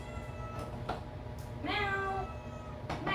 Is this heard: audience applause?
no